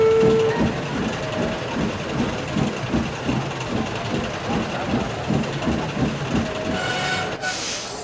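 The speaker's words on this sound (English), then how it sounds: "both engines pulled the train up the hill." Rhythmic chuffing of two steam engines hauling a train up a hill, steady and close, with a brief whistle tone near the start and faint voices.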